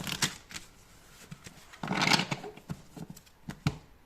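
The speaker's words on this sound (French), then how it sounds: "J'ai tellement l'habitude de battre les cartes." A deck of tarot cards is shuffled and cut close by: sharp, irregular riffle snaps with a denser flurry of card rustling in the middle, and no talk.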